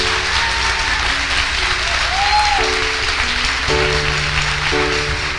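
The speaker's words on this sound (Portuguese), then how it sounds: "Olha, uma só de palmas, vamos ouvir?" A church congregation applauds during a service, with loud, continuous clapping from a large crowd and steady sustained tones from an instrument underneath.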